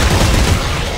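Rapid gunfire in Dead Space 3 as necromorph heads are shot, a dense loud burst of booming shots filling the whole second with no voices.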